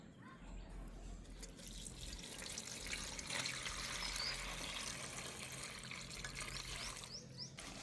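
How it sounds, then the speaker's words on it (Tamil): Steady splashing and trickling water as spinach leaves are swished and rinsed in a basin, continuous and close for several seconds with no talking. "இதில் நான் கீரையை கழுவி எடுக்க போகிறேன்"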